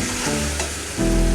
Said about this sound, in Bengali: এখন একটু কষাইতেছি, একটু নেড়ে চেড়ে এখন ঢেকে দেবো